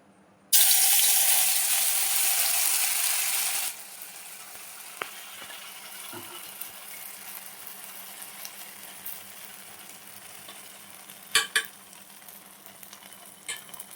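Crab-brain fritter batter hits hot oil in a wok and sizzles loudly and steadily for a few seconds, then the frying drops to a quieter crackle with a few sharp clinks near the end.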